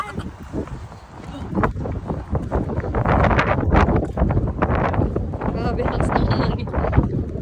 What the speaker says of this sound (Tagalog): pero tignan nyo naman, grabe kalakas yung hangin.